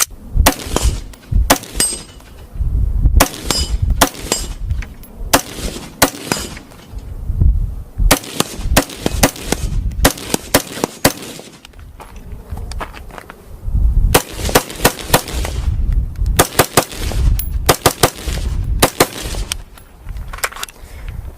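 An Aero Precision M4E1 rifle fitted with Leupold rings and a LaRue trigger fires repeatedly outdoors, sharp loud cracks in quick strings and single shots with short pauses between bursts.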